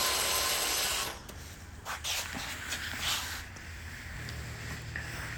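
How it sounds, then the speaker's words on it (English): A power driver runs 1/4-inch screws into a bracket on a Maytag Bravos XL gas dryer, with short bursts of whirring and scraping after a burst of broadband noise, close by. "you're gonna screw 2 1/4-inch screws"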